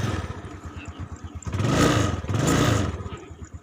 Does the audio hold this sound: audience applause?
no